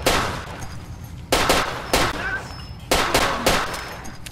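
Gunfire in Far Cry 2, five or six loud, sharp shots in a quick irregular series, each ringing out briefly before the next.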